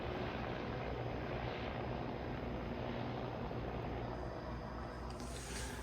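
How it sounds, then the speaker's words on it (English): Helicopter passing over a neighborhood in Anacostia, a continuous loud rumbling drone that holds steady for several seconds with no voices. "Helicopters fly over where I live here in Anacostia all day and all night."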